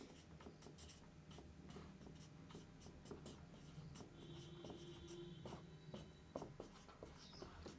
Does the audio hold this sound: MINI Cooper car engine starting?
no